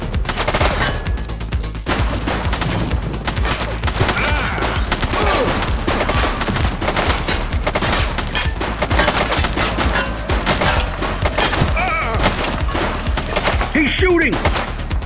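Sustained gunfire in The Precincts video game during a police shootout, rapid dense volleys of shots that continue for about fifteen seconds, loud and close, with a few voices faintly under the barrage.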